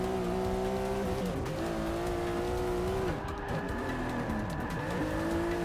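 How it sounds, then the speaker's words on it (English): Engine revving and tire squeal from a car drifting through corners in the Forza Motorsport 6 racing game, a steady loud engine drone with pitch shifts and screeching tires throughout. "let's do some drifting"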